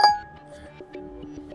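Default ringtone of a Mercedes E Class AMG car, a short bright chime with ringing tonal notes that fade, followed by faint soft tones.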